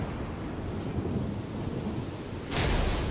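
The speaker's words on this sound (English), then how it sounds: "you flee from the storm together with Paimon" A thunderstorm rumbles in Genshin Impact, deep continuous rolling thunder with rain-like hiss that swells louder in a sudden crack near the end.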